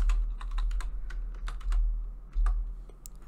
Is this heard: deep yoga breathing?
no